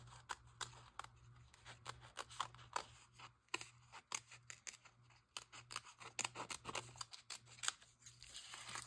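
Scissors trimming a sticker for a junk journal page, a quick run of close, crisp snips and slides in a busy irregular rhythm, quiet overall, with no talking.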